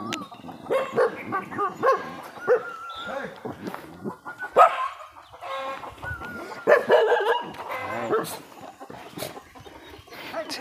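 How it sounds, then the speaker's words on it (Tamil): A dog in a forested village setting barks repeatedly in short, loud, close bursts, mixed with people talking throughout. "எங்கே போனாலும் நம்மளை ஒரு நாய் கூப்பிடுது."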